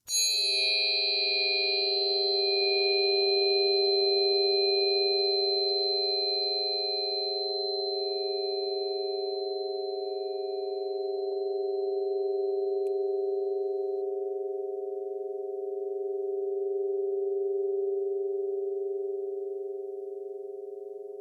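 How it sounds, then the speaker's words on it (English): A struck crown tuning fork with Solfeggio tuning rings out in a pure, steady metallic tone, a bright initial ding whose high overtones fade within seconds while the clear fundamental sustains softly for about twenty seconds. "let's strike the crown tuning fork"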